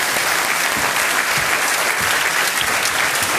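A television quiz show studio audience breaks into steady, dense applause welcoming a contestant's guests, the clapping even and sustained from start to finish with no talk over it.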